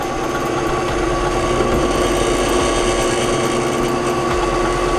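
A WEN variable speed drill press hums steadily at close range, a constant motor whine with a low mechanical drone that holds unchanged throughout.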